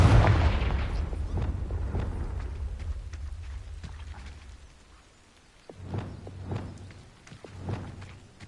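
A blasting fire spell detonates in the Hogwarts Legacy video game: a loud opening boom rumbles and fades over a few seconds, then several sharper, smaller blasts burst at intervals.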